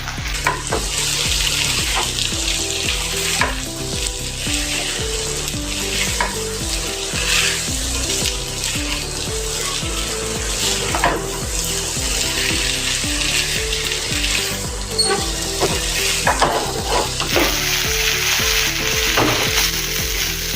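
Leftover cooked rice snack frying in a pan with Maggi masala, stirred steadily; a loud, continuous sizzle with repeated scraping and clacking of the spoon throughout, no voices.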